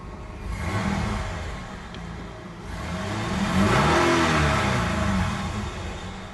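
A 1995 Ford Explorer with 200,000 miles and a worn throttle cable revs up twice, its engine rising and falling in a rough mid-pitched roar heard close by.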